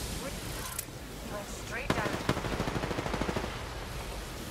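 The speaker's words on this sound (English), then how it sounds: "I am taking fire." Gunfire rings out in a first-person shooter video game: rapid automatic bursts rattle in quick succession, with a couple of sharp louder cracks in the middle, over a steady background of game noise.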